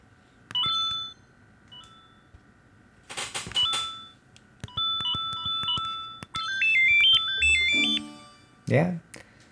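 Beeping electronic tones and short chimes from Joy-Con controllers in the Nintendo Switch 2 Welcome Tour game, sounding in stepped, melodic bursts with pauses between them and a brief rustle at the end.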